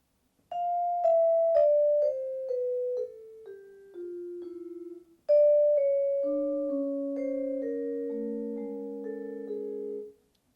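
Vibraphone notes descending a scale, each tone cleanly stopped by hand dampening before the next for a crisp, separated sound, then a second, lower phrase with some notes ringing together.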